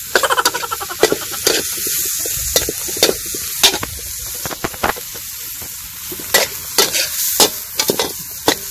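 Oyster sisig stirred and frying in a pan outdoors, with a steady sizzle and repeated sharp scraping clatters of a utensil against the pan, close and fairly loud.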